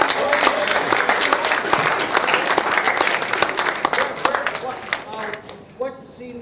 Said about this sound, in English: everybody here a nice round of applause for David Chipman, who is in the film.